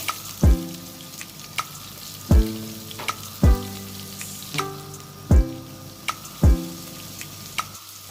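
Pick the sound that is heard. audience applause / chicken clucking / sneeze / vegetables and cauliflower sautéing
vegetables and cauliflower sautéing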